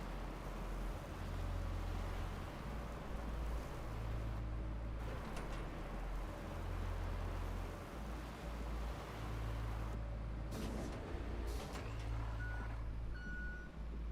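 A heavy vehicle in the road-building game RoadCraft gives repeated reversing beeps over a low, steady engine drone.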